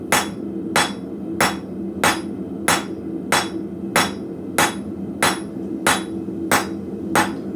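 Steady hammer blows ring on an anvil as a blacksmith forges hot spring steel from an old car spring, about eleven sharp metallic strikes at an even rhythm, each with a bright ringing tail over a low hum.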